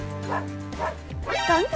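A cartoon puppy gives a couple of short, voiced barks and yips, ending in a higher, whiny, wavering yelp. The sounds are close and clear in a brief animated scene about a poor puppy adopted by a royal family.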